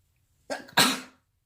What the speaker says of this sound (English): here's another sneeze coming